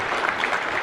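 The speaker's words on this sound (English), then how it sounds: "please join me in thanking them for their contributions. Round of applause if you" An audience applauds at a U.S.–Ghana business forum on infrastructure, a brief burst of steady clapping filling the room with no voices on top.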